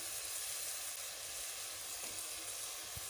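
Peas, carrots and potatoes frying over medium heat in a pan for chicken macaroni, giving a steady, quiet sizzle with a faint soft bump near the end, no voices.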